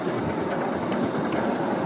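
A tiny working steam engine rolls down a bank on its track, giving a steady close rumble and hiss with faint rhythmic clicking of wheels, constant and unaccompanied by voices.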